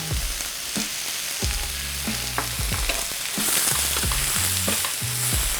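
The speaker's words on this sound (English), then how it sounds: "my apples have been cooking for about 3 minutes" Apples cooking in a pan with brown sugar and cinnamon give a steady close sizzle, broken by repeated knocks and scrapes as a utensil stirs and taps the pan, with no talking.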